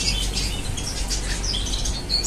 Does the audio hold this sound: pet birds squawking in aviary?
yes